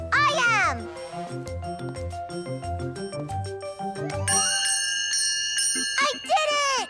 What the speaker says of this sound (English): I'm going to ring the bell first.